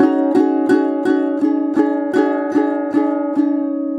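A single plucked ukulele string note repeated about ten times in a steady even rhythm, bright and close, each pluck ringing briefly before the next.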